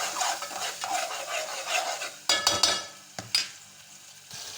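Tomato pieces frying with onions and spices in a pan, a dense close sizzle that fades as a spoon clatters and scrapes against the metal several times.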